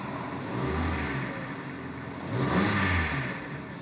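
A cheap, old Ford Focus engine revs twice, each burst rising and falling over a steady idle, heard up close with no talking.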